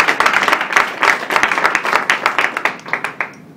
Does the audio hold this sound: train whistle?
no